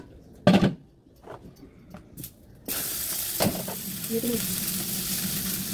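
Sinangag, Filipino garlic fried rice, sizzling in a pan, a steady close frying hiss that starts abruptly after a few brief clatters, with a short spoken remark early on.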